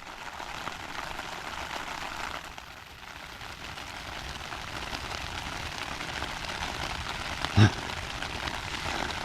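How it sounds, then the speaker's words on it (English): Rain falling on a tarp shelter while camping in Iceland, a soft, steady hiss of drops pattering on the fabric, with one brief sharp knock near the end. "It's starting to rain"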